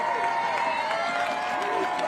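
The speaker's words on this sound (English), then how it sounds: "Fans from Pembroke Hill, they're trying to cheer on their team to a road victory." Lacrosse fans of Pembroke Hill cheer and clap for their team during a tight late-game road contest against Rockhurst, a steady wash of crowd noise with scattered shouts and a voice over it.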